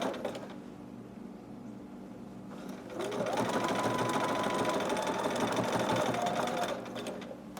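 A sewing machine runs in one steady, continuous stretch, stitching up to the opening of a fabric dragon or unicorn hood and back stitching, after a quieter stretch of room sound.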